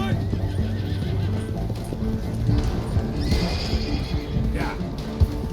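A Mustang horse in Red Dead Redemption 2 neighs and whinnies loudly with hooves clip-clopping, set against continuous game background sound and occasional voices.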